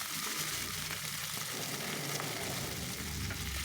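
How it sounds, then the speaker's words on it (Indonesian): Green tomatoes and green chilies mixed with red bird's-eye chilies sizzle steadily in a hot oiled pan, a continuous close frying hiss with no talk. "Kita tumis sampai layu."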